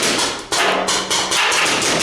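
Paintball gun shots striking a player during a paintball match, a dense run of sharp thuds and hits close by, continuous and loud for about two seconds with no talk.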